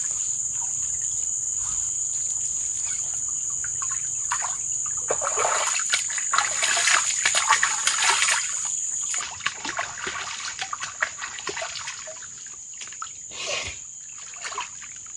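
Murky river water splashes and trickles close by, with bursts of sloshing over a steady high insect or cricket drone outdoors.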